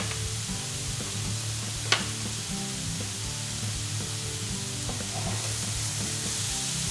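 Leek frying in a pan for a vegan Provençal quiche, a steady, fairly quiet sizzle throughout with one sharp clink near the start and no talk.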